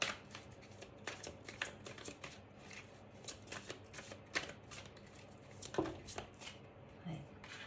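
Oracle cards being shuffled and drawn by hand, close rapid riffling and soft slapping in repeated bursts, with faint speech underneath.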